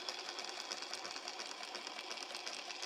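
A freshly greased and oiled sewing machine runs smoothly and continuously, a fast even stitching hum with a light rhythmic patter, close and steady throughout.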